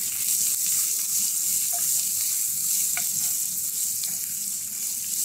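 Onions and grated coconut sauté in a hot pan with a continuous close sizzle, broken by occasional scrapes of stirring.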